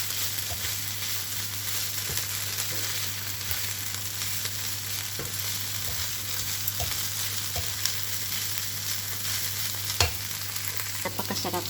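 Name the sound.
frying rice mixed with egg in a pan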